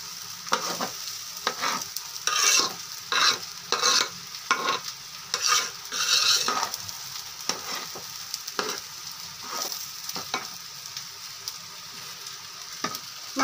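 Chicken pieces sizzle steadily in a hot pan while a spoon stirs them in bursts of scraping, a close, fairly loud rhythm of strokes spread over the whole stretch with no talk.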